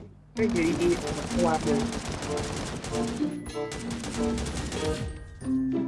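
Rapid automatic gunfire in a video game, dense loud bursts of repeated shots rattling almost continuously, with game effects and a brief gap near the end.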